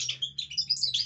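Male Siberian goldfinches in an aviary, a quick run of bright, high chirps and twitters in close succession, clear and near with no talk.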